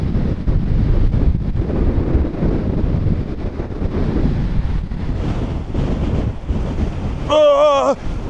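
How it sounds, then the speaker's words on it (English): Strong wind buffets the microphone in a loud, steady roar with gusty swells, and a brief whistling tone rises near the end, outdoors near the Baltimore Key Bridge wreckage. "It's like so windy."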